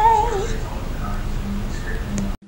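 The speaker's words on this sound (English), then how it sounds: "Please watch many times for Casper's meow" A pet cat meows in short harmonic cries close by near the start, followed by quieter, faint vocal sounds and a steady hum, ending abruptly.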